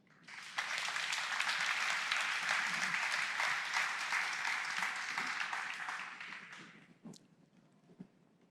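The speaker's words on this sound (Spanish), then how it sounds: "Démosle un aplauso al Señor" Church congregation giving a round of applause, a full, steady burst of clapping starting abruptly and lasting about six seconds before trailing off, followed by a couple of isolated taps.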